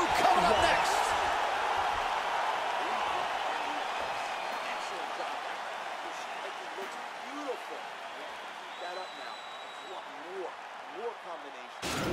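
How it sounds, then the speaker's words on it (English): Arena crowd in the UFC 4 fighting game cheering and applauding after a round, a dense wash of clapping that swells at first and slowly fades, with a commentator's voice talking over it. "So the crowd voicing its appreciation after that round."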